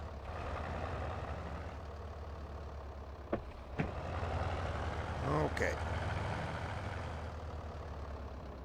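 A tractor engine idles in Farming Simulator 22, a steady low diesel rumble under quiet talk, with a couple of brief clicks partway through.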